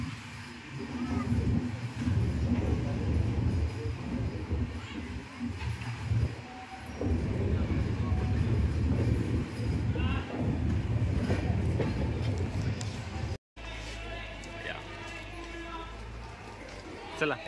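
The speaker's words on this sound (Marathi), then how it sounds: "चला आता आपली ट्रेन स्लो झाली आहे," Passenger train rolling and slowing as it arrives at Raichur station, with steady rumble and clatter of wagons close by, then a quieter interior after a brief cut.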